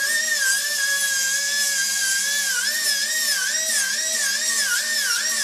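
A 400-grit diamond grinding tool whirs steadily up close, a high, wavering whine that is loud and continuous from start to finish.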